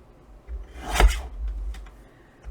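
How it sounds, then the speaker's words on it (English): A paper trimmer slices through a sheet of paper in one short, crisp rasp that swells and fades within about a second, close and fairly loud in a quiet room. "I'm going to put this in my trimmer, and I'm going to trim this down to about 1/4 of an inch."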